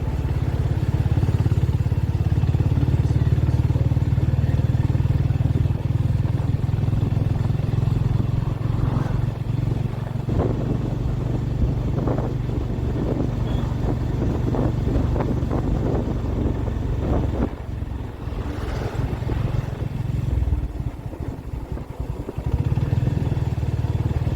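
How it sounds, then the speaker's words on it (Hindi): A Honda CB motorcycle rides along a foggy hill road, its engine a steady low drone under constant wind buffeting on the microphone, with some clattering in the middle. "और मुझे बाइक चलाने पे बहुत मज़ा आ रहा है"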